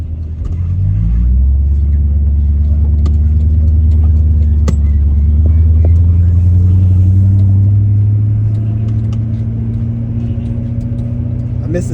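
BMW E34 540i V8 engine under way while driving, a loud steady low rumble that rises in pitch as the car accelerates, continuous and close throughout with faint cabin noise.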